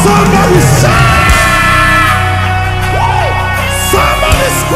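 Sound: church crowd shouting

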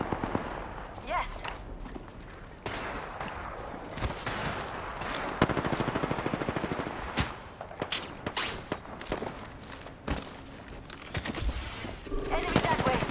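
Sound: gunfire in a video game (Apex Legends)

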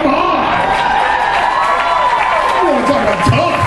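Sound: audience applauding a costume contest entrant

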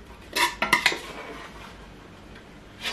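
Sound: transferring beans from a pressure cooker into a stew pot

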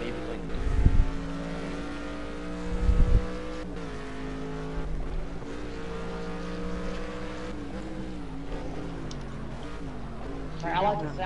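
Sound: car engine revving in Project Cars racing video game

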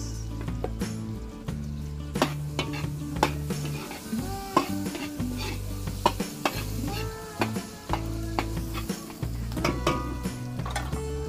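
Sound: garlic and onion sautéing in a pan

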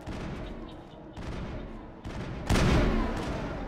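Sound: gunfire in the video game Mass Effect

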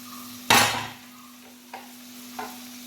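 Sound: stirring chili powder into dried lemon pickle

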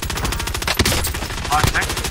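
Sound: gunfire in the video game Call of Duty: Warzone

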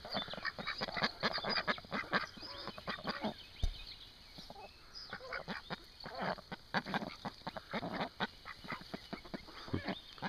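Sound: chickens in their yard

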